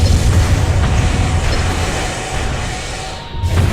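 Howitzer fire from a mech in the video game Armored Core 3 comes as loud, booming blasts over a constant rumbling roar, with a short dip in the sound near the end and no talking.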